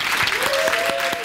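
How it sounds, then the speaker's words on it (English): Brief burst of warm applause from a panel audience, loud and even, with a host's voice briefly rising over the clapping. "So let's give them a warm round of applause, thanking them one more time."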